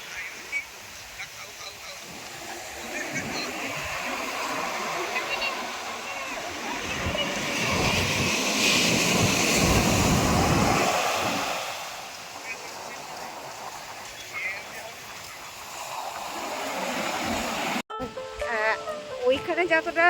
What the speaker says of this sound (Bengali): যানজট আর কোলাহল থেকে মুক্তি পেয়ে সমুদ্রের আওয়াজটা ক্যাপচার করলাম